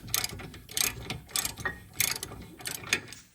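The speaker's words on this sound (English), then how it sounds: "Just gotta keep on wrenching on this." Ratchet wrench tightening brake bolts on a 2017 Audi A7, heard as five quick bursts of sharp clicking at a steady rhythm, close and fairly quiet, with no talk.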